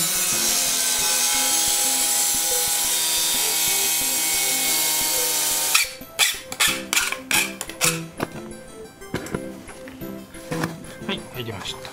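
Cutting a part while building a rocket stove: a steady tonal drone gives way to about a dozen quick, close rasping cutting strokes, loud and uneven in rhythm.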